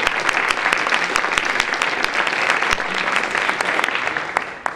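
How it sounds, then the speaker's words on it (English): Sustained applause from a room of people clapping for a data team at a big data exploration presentation, dense and steady for several seconds before tapering near the end. "if our team could stand up and give us a round of applause"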